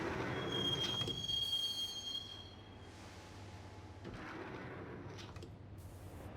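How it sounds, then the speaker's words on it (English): A subway train rides along in the video game Max Payne, with a steady rumbling roll, a sharp metallic wheel squeal early on, and the noise easing and then building again. No one speaks. "the train doors had already shut behind me, and I was in for the ride"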